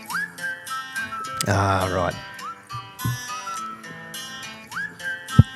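A melodic whistled tune from a song plays in short rising phrases, with a burst of louder music midway and voices chatting over it.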